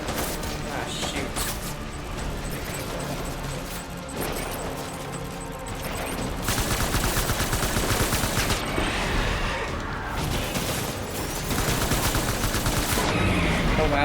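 Gunfire in the video game Death Stranding, a dense, continuous crackle of rapid shots and mechanical clatter that builds louder across the stretch, with no talk.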